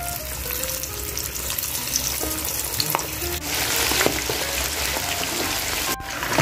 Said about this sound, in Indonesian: Okay, lepas tu kita goreng ayam dulu.